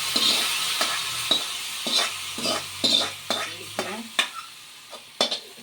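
Mustard seed tempering, with chilli and curry leaves, sizzles as it is poured into a ripe mango curry, and stirring and spoon scrapes against the pot recur in a steady rhythm close by.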